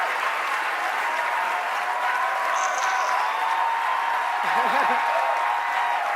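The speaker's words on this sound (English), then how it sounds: "Yeah, we're clapping, Meryl." Audience applause at the Golden Globes awards ceremony, a steady, even wash of clapping from a large hall heard at moderate distance, with a voice briefly talking over it.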